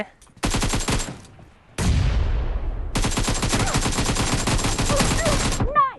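AK rifle sprayed on full auto in a shooter video game: loud, close, rapid-fire bursts, a short one, then a heavier one, then a long sustained stream of shots.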